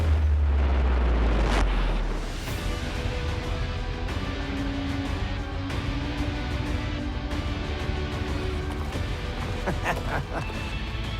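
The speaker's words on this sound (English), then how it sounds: "no ultimate revisit would be complete without a bomb-proof kaboom" A loud explosive blast from a Mythbusters explosives test at the outset, followed by a long rumbling roar and scattered debris that fades to a sustained noisy tail.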